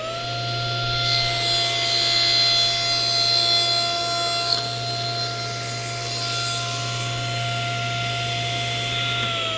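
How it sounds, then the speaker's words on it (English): A power saw runs with a steady, loud motor whine as it cuts a small piece of wood held in a jig with toggle clamps. The tone shifts slightly during the cut, and no one speaks. "we waited for our saw to come to a stop"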